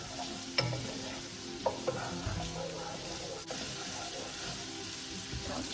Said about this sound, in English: Throw in the chorizo and give it a stir around.